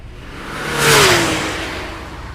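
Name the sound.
car speeding up, audio story sound effect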